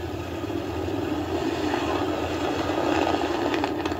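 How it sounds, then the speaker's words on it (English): A rocket's first-stage engines roar during launch from Baikonur, a steady, powerful low rumble that builds slightly over a few seconds with faint crackle, heard from a distance without talk. "First stage engines performing nominally according to the blockhouse in Baikonur."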